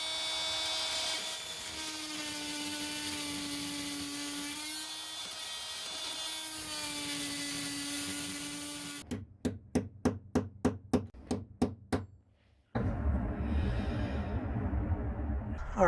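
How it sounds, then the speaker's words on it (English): Glued nut being cut off a sailboat through-hull fitting: a steady whining tool tone gives way to a run of rhythmic sharp strokes, then loud, rough continuous grinding up close. "So now I'm cutting the nut off, trying not to damage the threads on the through hull too much."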